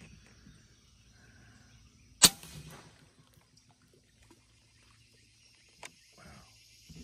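One sharp, fairly loud crack from a .457 magnum Bulldog revolver with an extended shroud, fired down into a mud bank outdoors, followed by faint scattered spatter and a quiet background with insect chirps.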